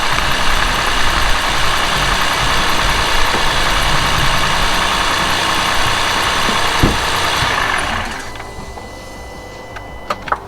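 A car engine idles after a jump start from a portable lithium booster, a loud steady mechanical hum with a busy ticking texture that drops away abruptly as the engine is switched off, leaving quiet clicks.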